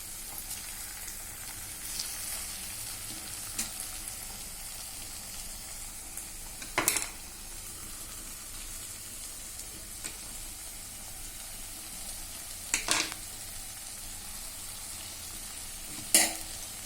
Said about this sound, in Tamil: இப்போ வந்து நான் வந்து வேக வச்ச முட்டையை வந்து ஸ்லைஸ் பண்ணி இதில் சேர்த்துறேன்